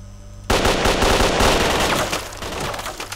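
Loud, close automatic gunfire in the video game STALKER: Clear Sky breaks out suddenly as a dense continuous burst of rapid shots, then slightly thins toward the end.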